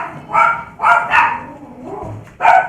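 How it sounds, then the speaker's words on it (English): Several dogs bark in short, sharp bursts at close range, four or five loud yaps with brief gaps and a low whine between them. "these dogs are so crazy."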